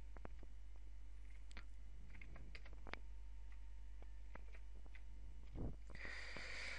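Scattered keystrokes on a computer keyboard tap out in an irregular run of light, close clicks over a low background hum.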